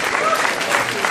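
At an e-commerce awards evening, the audience claps for the finalists, a short burst of dense, steady applause from a crowd filling the hall.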